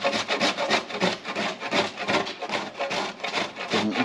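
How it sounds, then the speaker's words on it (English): Fresh raw-milk Parmigiano Reggiano is grated in quick, even rasping strokes, close and fairly loud, a steady scraping rhythm of about three strokes per second with no talk. "So we are looking for about 1 cup of fresh grated Parmesan."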